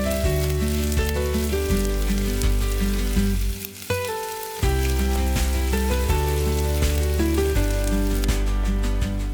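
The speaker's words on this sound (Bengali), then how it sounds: "রসুন, আদা, পেঁয়াজ এগুলো একটু ভালো করে ভেজে নিচ্ছি" Chopped ginger, garlic and onion frying in a pan give a steady, close sizzle with a brief dip midway, under a strong sustained musical backing.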